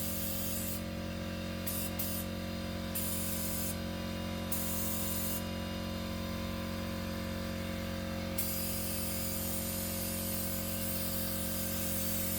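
Air hisses steadily from a cheap sand blaster that is spraying without any sand coming out, a loud continuous spray lasting the whole stretch, with brief harsher bursts during the first eight seconds.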